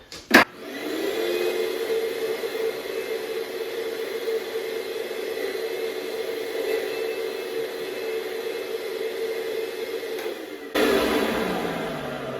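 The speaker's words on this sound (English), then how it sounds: "I'm going to vacuum this all out of the way" A vacuum cleaner sucking up wood debris from concealed hinge installation runs steadily at close range with a loud, constant whine and rushing air, cutting off abruptly near the end.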